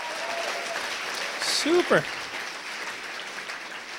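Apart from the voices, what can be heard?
audience applause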